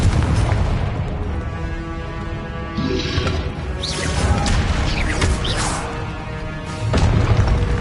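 Confringo spell explosions in the Hogwarts Legacy video game, repeated loud booming blasts with whooshing bursts and rumbling crashes layered over continuous combat noise, no voices.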